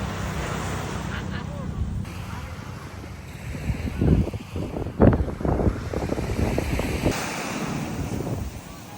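Ocean waves wash onto the beach at Laiya, Batangas at sunset, with surf swelling and breaking in a few louder surges under heavy wind buffeting the microphone.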